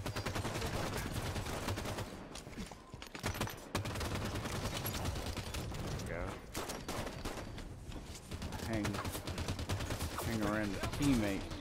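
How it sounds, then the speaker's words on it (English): Rapid bursts of automatic gunfire from teammates in a Halo 5 Guardians Slayer match crackle almost continuously, with short pauses between volleys, while a player talks over the shooting. "they're shooting me more than enemies"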